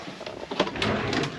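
A few short wooden knocks and slides of a drawer being opened and shut inside an MDC Robson XTT off-road camper trailer, close by, in a quiet room.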